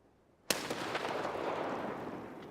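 A grenade bursts in a first-person shooter with one sharp, loud blast, followed by a lingering rumble and debris-like crackle that fades slowly over the next two seconds.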